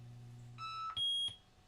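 A pinball machine powering on gives a few short electronic beeps, one after another, up close and fairly loud, over a low steady hum.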